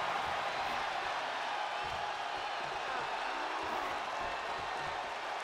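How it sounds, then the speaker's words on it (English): Roaring arena crowd in the WWE 2K22 wrestling game during a 2 out of 3 falls Undisputed championship match, a steady dense wall of cheering and crowd noise sustained throughout with a commentator's voice faintly underneath. "The sound of this crowd is deafening"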